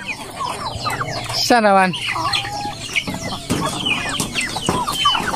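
Chickens clucking close by on a farm, with a rooster crowing briefly among the birds; someone speaks over the steady clucking.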